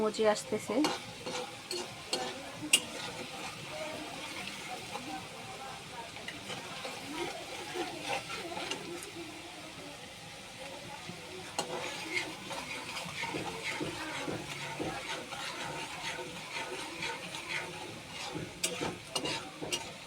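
Onions frying in a pan for an aloo chorchori with dried kachki fish, a soft steady sizzle with occasional stirring scrapes, faint and close, under intermittent talk.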